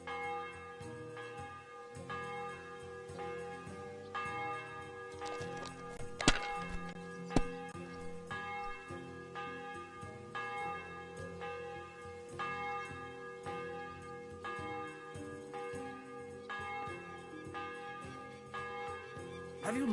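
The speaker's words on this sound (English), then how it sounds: "The bell's ringing for Hans the 5th time." A church bell rings in the Kingdom Come video game, tolling in the background under game music and ambience, with a couple of sharper strikes standing out.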